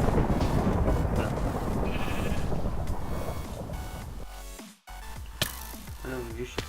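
Sheep bleating in the Sheepwars game on the Epicube server, a dense, busy stretch of game noise with bleats, then a brief cutout and scattered sharper tones near the end.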